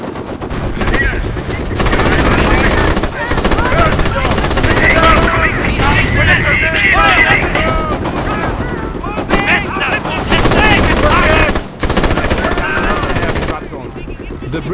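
Rapid machine-gun fire rattles almost nonstop in the World War II game Company of Heroes, set in 1944, mixed with heavier artillery booms and shouted soldier voices, loud and dense throughout.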